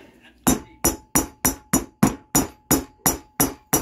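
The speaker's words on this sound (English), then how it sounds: "Take my rubber hammer." A rubber hammer strikes repeatedly while a 224cc engine is assembled, about eleven loud, evenly spaced thuds close by, with a faint hum underneath.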